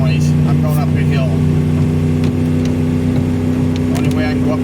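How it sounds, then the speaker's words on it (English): A car engine strains under throttle while climbing a hill on a rural route, a loud steady drone with rising revving, as someone talks intermittently over it. "The only way I can go up a hill is with my foot on the gas."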